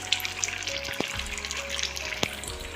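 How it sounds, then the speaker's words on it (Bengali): Chicken curry broth simmers at a low, busy bubble, with soft popping and gurgling and a few sharper clicks against a quiet kitchen background. "দেখো এখন মাংসর ঝোল টকবক করে ফুটছে, বুঝতে পারছি"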